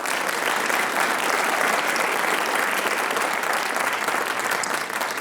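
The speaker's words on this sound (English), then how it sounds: "Give a round of applause for senior Cole Keriazakos." A school writers expo audience claps in a steady, dense wash of applause that carries through the full stretch without pause, even in loudness, with no talking over it.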